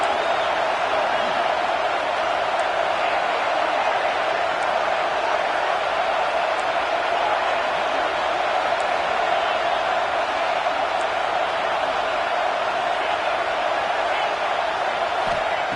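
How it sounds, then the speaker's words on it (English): A stadium crowd in a Madden football video game keeps up a steady, dense roar for the whole stretch, loud and unbroken, with no distinct cheers standing out. "this crowd really affecting the football game"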